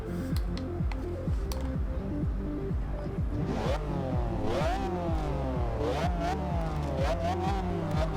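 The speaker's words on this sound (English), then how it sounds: "Ooh, I love how this car sounds." A 1997 McLaren F1 GT engine in Forza Horizon 2 roars up through the revs, with repeated rising sweeps as it accelerates and shifts gears, loud and close, under a throbbing low drone.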